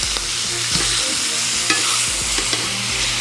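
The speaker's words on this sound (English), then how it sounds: "Just gonna get a good sear on that." Pork sears in a hot pan with a loud, constant sizzle, broken by occasional scrapes and taps as the meat is turned.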